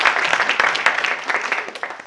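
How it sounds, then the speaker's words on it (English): An audience at a live storytelling show breaks into short, scattered clapping, with individual claps audible in a quick patter that thins out over two seconds. "you get applause for that."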